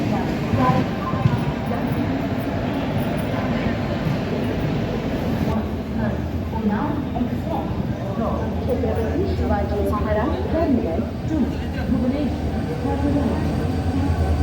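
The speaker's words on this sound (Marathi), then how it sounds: "4:41 लोणावळा स्टेशनवरती आपली ट्रेन आलेली आहे" The Konark Express pulls into Lonavala station with a steady rumbling roar of wheels and carriages and some rattling, under someone speaking throughout.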